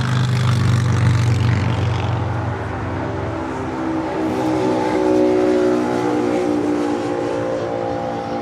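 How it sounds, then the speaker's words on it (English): A China Airlines Cargo Boeing 777 freighter rolls for takeoff at LAX, a loud, continuous jet engine roar with a steady hum that shifts slightly in tone as the aircraft accelerates down the runway. "On 25 left, we have the China Airlines Cargo 777 freighter now rolling."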